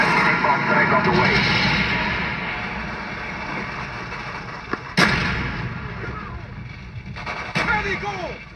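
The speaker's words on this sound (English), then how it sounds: "Friendly bomb strike on the way." Friendly bomb strike in Call of Duty: Black Ops multiplayer, a rumbling battlefield bed with two sharp explosive booms, then scattered distant blasts fading under faint radio chatter.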